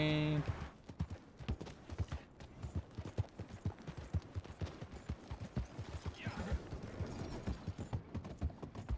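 Horse hooves clip-clop steadily at a plodding walk in Red Dead Redemption 2, a regular stream of close, crisp hoofbeats running the whole way through, with other faint game sounds mixed in.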